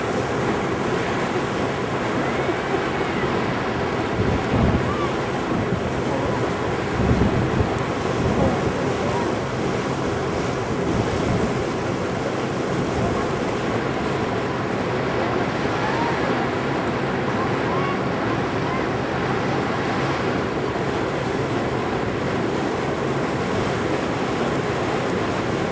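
Steady wash of waves and wind noise on a boat cruise on Lake Champlain, continuous and fairly loud, with rumbling buffets against the microphone throughout.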